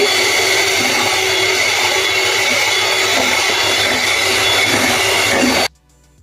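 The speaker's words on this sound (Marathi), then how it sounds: "मी हा हँड मिक्सरने फिरवून घेणार आहे." An electric hand mixer whisking vanilla ice cream mixture in a bowl, a loud, steady whirring drone running continuously for several seconds before cutting off abruptly.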